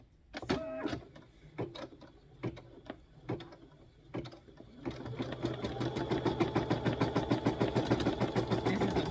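A Brother SE630 embroidery and sewing machine, stitching black thread into black fabric, first gives a few separate clicks and thumps, then settles into a steady fast rhythmic needle chatter that grows louder and continues to the end, close up.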